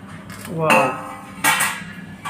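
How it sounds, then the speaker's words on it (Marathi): A metal lid is lifted off a pan of crispy vegetable snacks. Two close metallic clatters and scrapes ring out about a second apart, with a faint voice in between. "आता बघा हे काढून घेतले झाकण"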